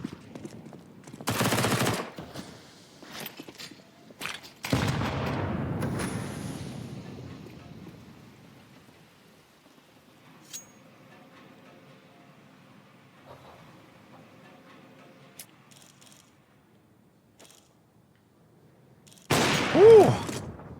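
Counter-Strike 2 gunfire bursts in a few sharp volleys, one early, one around five seconds and a loud burst near the end, separated by long quiet stretches with faint ambient noise.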